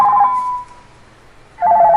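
An outgoing telephone call rings back with two loud electronic ringing tones, one at the start and one at the end, separated by a quiet gap.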